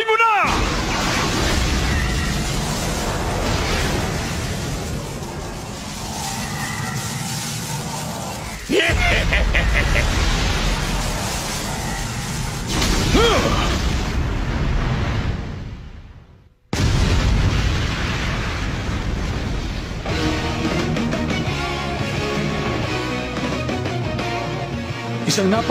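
Loud explosive booms and a heavy, sustained rumble from an anime battle fill the scene, cutting out abruptly for a moment before roaring back, with voices at times.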